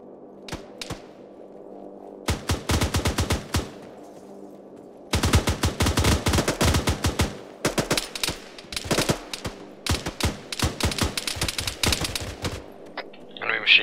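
Rapid automatic machine gun fire in the military shooter game Arma 3 rattles in long, dense bursts and shorter volleys, loud and close, with brief pauses between strings of shots.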